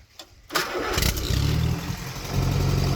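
Old tractor engine starting up after a few clicks, catching quickly into a loud, steady rumbling idle with a faint throb, close by and alone.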